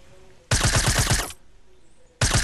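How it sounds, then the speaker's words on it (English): Automatic weapon fire in the Fortnite video game: two loud, close bursts of rapid shots, the first lasting nearly a second, then a brief lull before the second begins. "What are you shooting at?"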